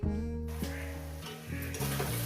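Rohu fish head and vegetable chorchori cooks in a pan over a medium gas flame, giving a steady close sizzle with stirring scrapes throughout.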